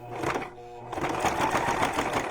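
Sewing machine back-stitching through thick layers of a junk journal cover, a steady close mechanical whir with a brief pause before it laboring on.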